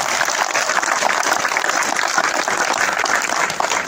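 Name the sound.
loud applause welcoming guests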